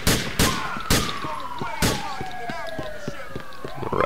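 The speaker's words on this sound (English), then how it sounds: "He's shooting." Gunshots in the GTA IV police mod, several loud sharp cracks early on, then a wailing police siren rising and falling underneath with faint further pops.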